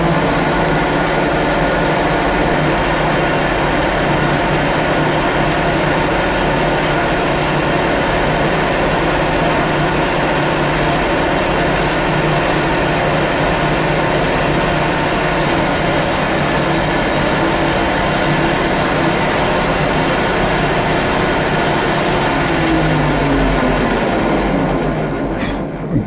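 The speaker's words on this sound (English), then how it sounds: "Okay, enough talking, let's drill. And I will do this manually." A drill manually boring a hole into a grounding connector for a rotating welding positioner, a loud steady grinding whir running continuously and close up with no talking.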